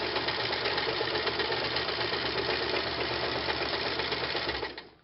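A sewing machine stitches a quilt in free motion stippling, with a steady close rapid mechanical chatter running for several seconds before stopping, and no talk.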